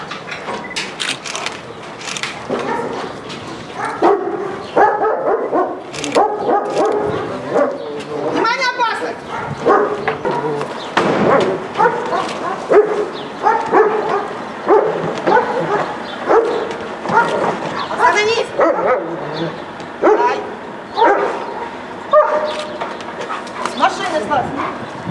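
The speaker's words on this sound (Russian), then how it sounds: "была сымитирована попытка проникновения постороннего, где служебный пес по кличке Ирвин достойно проявил все свои служебные качества" A service guard dog barks repeatedly in loud, insistent bursts during a staged intruder-break-in drill, with whimpers and yips mixed in and people talking over much of it.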